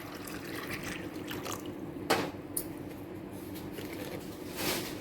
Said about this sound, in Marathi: याच्यात आपण पाणी ओतणार